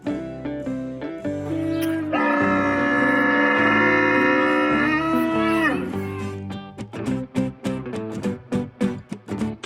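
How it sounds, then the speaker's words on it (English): A camel's vocalization in a wild-animal learning set: a loud, sustained harmonic groan swelling in the middle, then breaking into a series of short rhythmic grunting pulses, heard alone without talk. "Camel."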